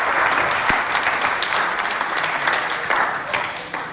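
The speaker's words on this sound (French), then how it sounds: "Sous vos acclamations, nous recevons ces deux élèves." Audience applause welcoming two high school students at a school event in Abéché, loud continuous clapping that fades slightly toward the end.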